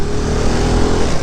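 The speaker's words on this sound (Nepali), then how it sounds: "साथीको बाइक रफ्तार हान्दैछु" A CrossX 300 motorcycle ridden at speed, its engine a steady loud drone with wind rush throughout, close and continuous with no pauses.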